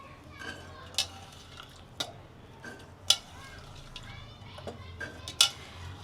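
Dry chickpeas are dropped and stirred into a pressure cooker, giving sharp scattered clinks and taps against metal, a handful of distinct hits a second or so apart over a quiet background.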